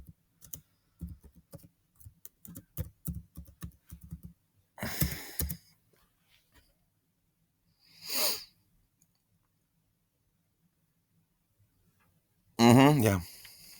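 Quick bursts of typing on a computer keyboard, a few seconds of close, irregular key clicks, followed by a few scattered louder breathy or rustling noises.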